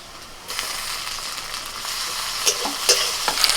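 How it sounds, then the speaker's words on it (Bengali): Chopped tomato drops into frying onion, lifting a soft hiss into a steady close sizzle, followed by a few scraping stirs and light clinks of a spatula against the pan. "পেঁয়াজটা একটু ভাজা হয়ে গেলে দিয়ে দিচ্ছি টমেটো কুচি"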